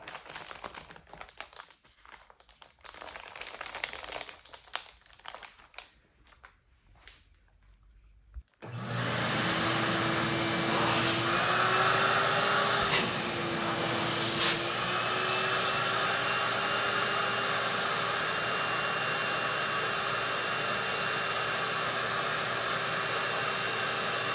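A wet vac hose draws air out to vacuform leather tightly around a skull: after quieter handling noises, a loud steady suction roar starts abruptly and runs on continuously, its pitch shifting slightly once.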